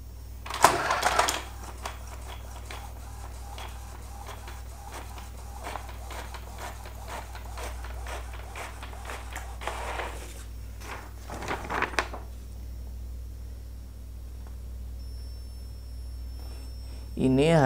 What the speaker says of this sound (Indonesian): kita persiapkan untuk cek print test page